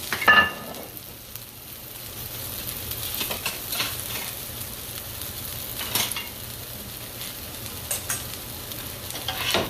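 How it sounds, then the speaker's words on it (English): Peppers and onions frying in a pan for salmon cakes, a steady low sizzle with occasional stirring scrapes and light clinks, close and moderately quiet throughout. "Now I'm going to pan up my peppers and onions."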